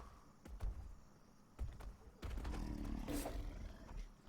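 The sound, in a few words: big cat roaring, from video game Atlas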